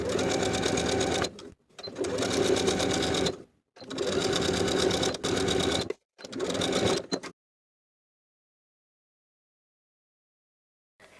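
A sewing machine understitches bias tape to a dress seam allowance in four loud bursts of rapid stitching separated by short pauses, then silence.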